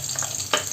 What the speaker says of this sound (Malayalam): ഓയിലൊന്ന് ചൂടായി വരുന്ന സമയത്ത് നമുക്കിതിലേക്ക് അരിഞ്ഞു വെച്ചിരിക്കുന്ന സവാളയാണ് ചേർത്ത് കൊടുത്തിരിക്കുന്നത്.